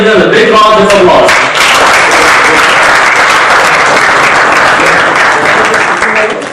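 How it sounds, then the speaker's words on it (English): Loud, dense applause fills the room at a Toastmasters club meeting, sustained for several seconds, with a voice briefly heard under the clapping at the start. "Please everyone give them a big round of applause."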